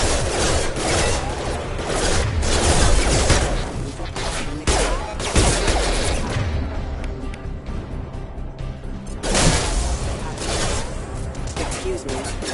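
Rapid bursts of gunfire in the Mass Effect 2 video game played on a PlayStation 5, a dense, loud fusillade that runs almost without pause, with shots and impacts piling up and a voice speaking in the mix.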